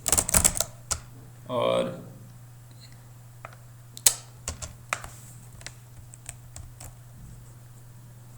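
Computer keyboard typing in a series of sharp, irregular clicks, some loud and close, with a brief voice near the start over a steady low hum.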